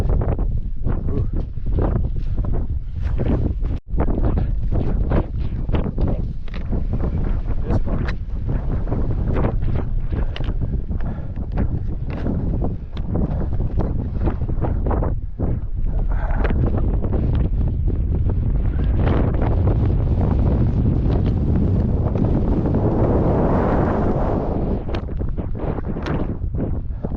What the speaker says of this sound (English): Miserable cold wind.